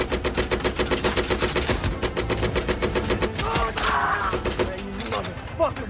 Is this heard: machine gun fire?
yes